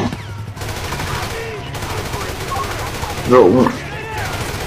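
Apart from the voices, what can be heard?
gunfire in a video game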